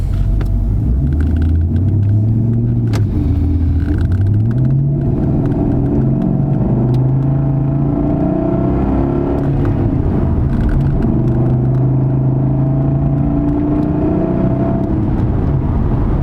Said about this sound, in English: That M62 with the Alpina exhaust in the back. Beautiful sound.